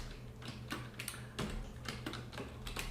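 Typing on a computer keyboard with quick, irregular close-up key clicks in bursts over a low hum, with no talking.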